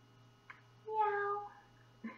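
A person gives a drawn-out, rising and falling meow, imitating a cat, with brief soft sounds before and after it.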